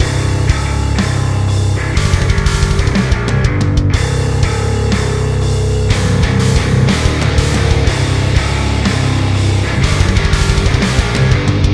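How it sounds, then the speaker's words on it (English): A heavily distorted, thick metal bass guitar tone from amp sims plays a driving, chugging riff with brief stops, loud and dense throughout, with no voices. "One is highly distorted, the other one is very much highly distorted."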